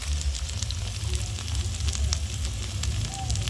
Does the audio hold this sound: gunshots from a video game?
no